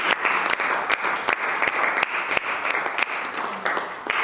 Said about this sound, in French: Acclame Jésus, acclame les saints.